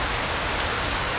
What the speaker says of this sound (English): I don't think this rain is going to last for too long.